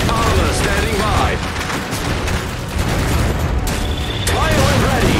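Gunfire in the Iron Harvest strategy game during a 2v2 multiplayer battle: dense, continuous volleys and booms layered over each other, loud and close, with unit voices calling out over the noise.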